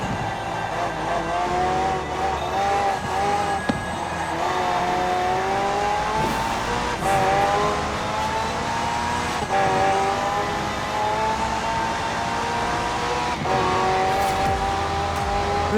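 A McLaren hybrid race car with a twin-turbo V8 and an electric motor drives in Forza Horizon 4, its engine note sustained and loud, pitch climbing and holding in long continuous pulls.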